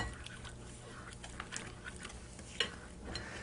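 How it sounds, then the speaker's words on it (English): Breadcrumbs and clams are stirred together in a bowl for stuffed clams, giving soft, faint scraping and light clinks of a utensil against the dish under a low background hum. "let's mix that together. Breadcrumbs and clams"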